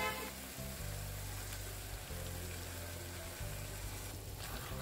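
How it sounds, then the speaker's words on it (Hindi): Spinach paste goes into a pan of fried masala and sizzles, a steady close frying hiss with a low bubbling undertone, faint and continuous. "अब मैं इसमें पालक का पेस्ट ऐड करूंगी"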